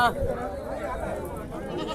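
A large native goat bleats in a wavering call at a crowded Saturday livestock market in Dubbaka, with chatter around it.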